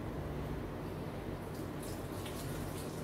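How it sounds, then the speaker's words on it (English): Lamb rinsed under a running tap, a steady broadband gush of water that stays even throughout with a few brighter splashes near the end, no voices. "I'm going to give that a quick rinse."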